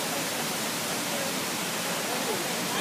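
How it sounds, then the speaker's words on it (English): The Big Rocks waterfall gives a constant, loud broadband rush of falling water that fills the whole clip with no break. "Here's Jackson at the Big Rocks waterfall."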